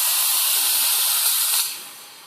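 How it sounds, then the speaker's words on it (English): Steam hisses hard and loud from the wand of a Ponte Vecchio Lusso espresso machine in one continuous close burst, then tapers off sharply toward the end. "Now this thing produces a great amount of steam, and it's very quick at sort of heating up the milk and steaming the milk"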